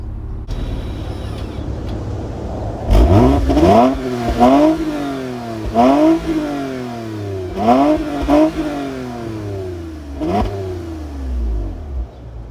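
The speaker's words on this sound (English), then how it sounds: "I'm just you guys hear what that catback exhaust sounds like really quick." A 2020 Toyota Camry TRD catback exhaust revs repeatedly, about six throaty bursts rising and falling after an idle, loud and close with no talking.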